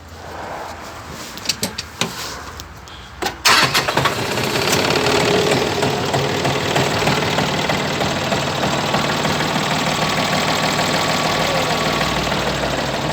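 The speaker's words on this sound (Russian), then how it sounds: "Давайте заведем трактор." A Japanese tractor's engine cranks with a few sharp bursts, catches, then settles into a steady, loud idle with a knocking diesel rumble that continues to the end.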